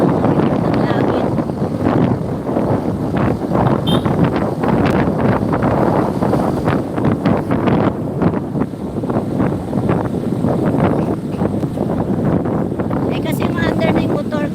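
Strong wind roars steadily across the microphone while riding a motor boat on open water, a dense continuous buffeting with a faint underlying engine drone and occasional voices mixed in.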